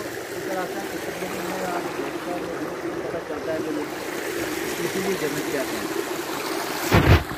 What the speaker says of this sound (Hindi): ये चश्मे का पानी बड़ी तेजी से यहाँ पे बह रहा है।